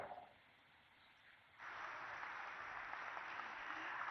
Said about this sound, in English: I think we can put our hands together for louder applause there